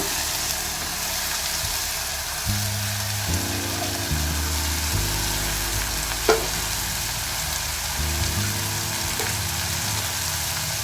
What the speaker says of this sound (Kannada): ಈಗ ಹೆಚ್ಚಿ ತೊಳೆದು ಫ್ರೈ ಮಾಡಿರೋಂಥ ಚೌಳಿಕಾಯಿ ಹಾಕ್ತೀನಿ